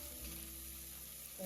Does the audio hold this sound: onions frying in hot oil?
yes